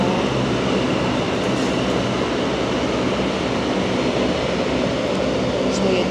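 Cebu Pacific airliner engines at an airport in Palawan: a loud, constant broadband roar, dense and close, holding steady throughout with no pauses.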